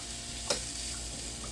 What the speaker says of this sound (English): So this has been sauteing for about 3 minutes